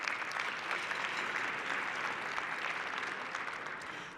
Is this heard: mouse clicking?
no